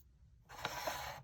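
Paper is cut close by in a single short, soft swish that starts abruptly after a moment of near silence and carries a few small snips within it.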